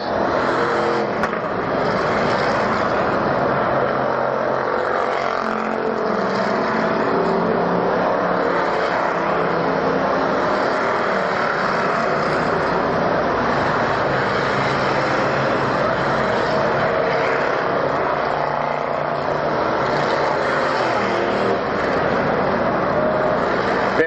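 Enduro race cars roar around Orange County Speedway during a 150-lap championship in 1993, a dense, unbroken engine drone with swells as cars pass the start-finish line, loud and steady throughout.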